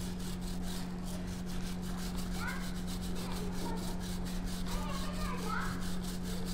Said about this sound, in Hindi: जहाँ आपको लगता है कि आपको घिसने का जरूरत है तो आप घिस सकते हो, ऐसा घिसते हुए